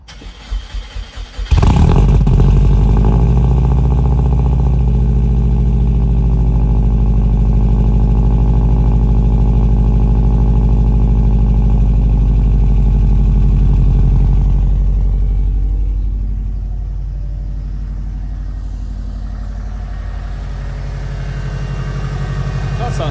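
A Subaru Legacy with a single turbo conversion cranks over a few times, catches and settles into a steady, loud idle, the rumble easing slightly toward the end.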